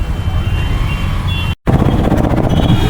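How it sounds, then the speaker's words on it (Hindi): Heavy street traffic in the city of Buxar, India, with a dense, steady roar of engines that cuts out briefly and returns, plus faint high tonal beeping in the mix. "क्या ही तगड़ा ट्रैफिक"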